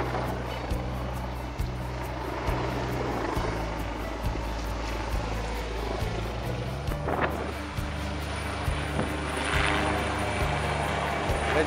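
A police helicopter flies behind a convoy of police cars and motorcycles leaving a square in Reggio Calabria, a steady low rotor drone throbbing throughout against a continuous rumbling background with no talk.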